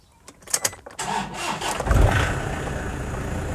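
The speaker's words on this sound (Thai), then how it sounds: "เมื่อกี้สตาร์ทแล้วมันจะมีเสียงจึ้งๆๆอย่างเงี้ยนะครับ" A car with a weakening battery cranks with a few quick labored starter bursts, then the engine catches and runs on in a rough, loud drone close by.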